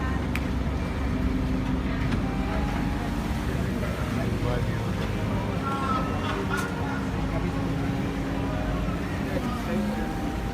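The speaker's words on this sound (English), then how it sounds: "What do you think about the water bus system, Coco?" A Venice water bus chugs along a canal with a steady low engine drone and rushing water and wind, while people talk over it.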